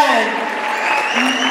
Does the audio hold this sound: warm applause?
yes